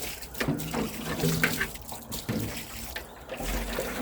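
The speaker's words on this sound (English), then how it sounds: "I'm going to add some water to just get everything moving." Water trickles and splashes into a worm farm bin in uneven bursts of pouring, fairly quiet and close by, with no talking during the pour.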